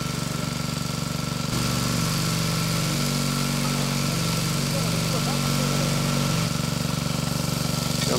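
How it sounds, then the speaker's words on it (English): Well drilling rig engine running steadily, then picking up as drilling resumes, a loud continuous mechanical drone with a low throbbing pulse and shifting tones throughout. "and the drilling resumes with a new section of pipe on."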